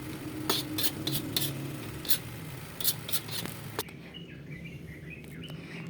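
Bagoong alamang, Filipino shrimp paste, sautés and caramelizes in a pan as it is stirred, with repeated scraping clicks of a utensil over a low sizzle and faint birdsong outdoors, no talk.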